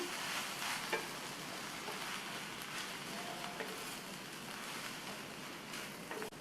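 A spoon stirs spinach-stem sambar with chili and coriander powder in a pot, a faint steady sizzle and bubbling with soft scraping clinks scattered through, quiet and close with no talking.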